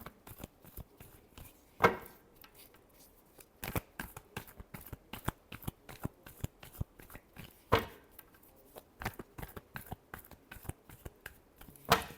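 Tarot cards are shuffled by hand at close range in quick, irregular bursts of riffling and slapping, with brief pauses between rounds and no talk.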